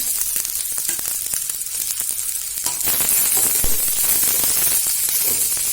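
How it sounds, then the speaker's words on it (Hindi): Onions dropped into hot oil in a pan for a desi mutton curry, sizzling steadily and loudly, with crackles that grow denser partway through and occasional stirring clicks, no voices. "ऑयल गर्म हो चुका है, प्याज मिलाएंगे।"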